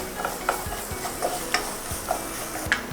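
A spoon scrapes and stirs through thick Burmese egg curry in a pan at a regular pace, with a soft sizzle underneath.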